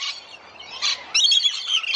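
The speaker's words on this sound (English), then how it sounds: "These are rainbow lorikeets." Rainbow lorikeets at a pond give harsh, shrill squawks in overlapping bursts, a flock calling close by and loudly for the whole stretch, with the sharpest, densest screeches in the second half.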